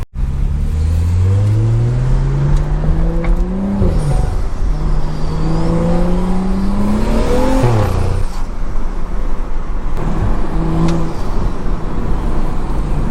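Stage 2 turbocharged BMW accelerating hard, engine climbing steadily in pitch through several gear shifts with brief dips between pulls, loud and close from inside the car.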